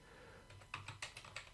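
Several quick keystrokes on a computer keyboard, a brief burst of about five or six light taps in an irregular rhythm, close and fairly quiet, with no voices.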